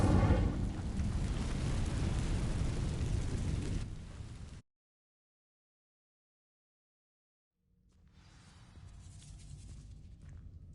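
In Hogwarts Legacy on PS5, the Incendio fire spell sets dry vines ablaze with a loud, roaring rush that lasts about four seconds, cuts to sudden silence, then gives way to a quieter rumbling ambience.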